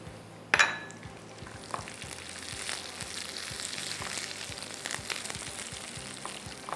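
Button red chillies hit hot oil with cumin for a khatti dal tempering: a sharp hiss on contact, then a steady, close sizzle and crackle that carries on alone with no talk.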